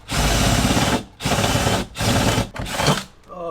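Power drill boring through bent metal on a van bed frame for bolt holes; three loud grinding bursts of about a second each, separated by brief pauses, with a shorter fourth burst, close and without talk.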